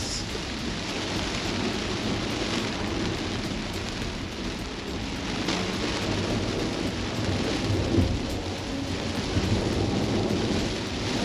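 Heavy rain drums steadily on a Kia EV6 driving a very wet mountain road at Genting, a dense continuous wash with low rumble and tyre hiss, loud and unbroken with no talk.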